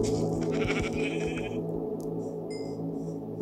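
Sheep in the game Minecraft bleat in a few short, clear calls against a steady background of low game ambience, with soft clicks and a faint chime later.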